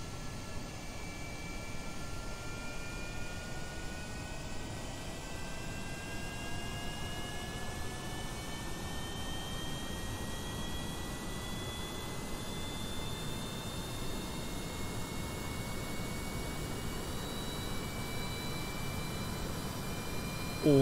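A steady aircraft engine drone from a winged frame carrying a tank rolling along a runway in Kerbal Space Program; the tone is continuous and even, with slowly rising pitch lines and no talking.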